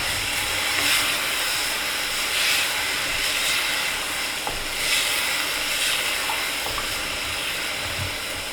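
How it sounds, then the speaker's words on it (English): Half a large can of red enchilada sauce in a brisket chili heating toward a simmer, giving a steady broadband hiss and bubbling wash with faint ticks and pops throughout, fairly loud and continuous with no voices. "And we are almost starting to simmer already."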